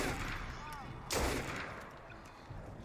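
A single sharp gunshot cracks out in Assassin's Creed Unity, brief and fairly loud against a busy background of game ambience.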